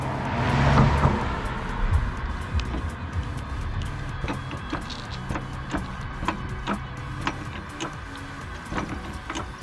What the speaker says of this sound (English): We're going to jack the car